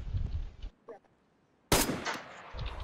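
Rifle fire in the video game DayZ: a sharp shot rings out, then after a short lull a loud, close report cracks and trails off into echoing noise.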